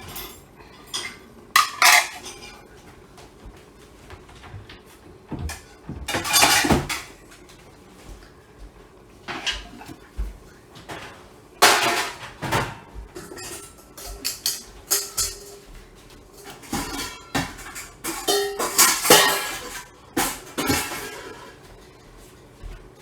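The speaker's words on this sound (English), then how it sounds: "I'm going to get dishes put away real fast" Dishes and cutlery clatter as they are put away in a home kitchen, with scattered clinks, knocks and rattles of plates and silverware coming in irregular bursts and no talking.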